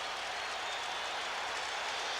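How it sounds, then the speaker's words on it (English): Scattered applause from a football crowd at a 1988 Raiders at Oilers game, a steady wash of hand clapping heard from a distance without any talk. "there's applause from one of the Oilers."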